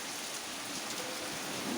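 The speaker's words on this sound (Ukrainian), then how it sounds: "Оце, оце літній дощ, дивіться який. З бурею з такою." Heavy summer rain in a storm pours down steadily and loudly, a dense continuous hiss close by with no one speaking.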